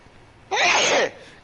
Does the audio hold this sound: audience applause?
no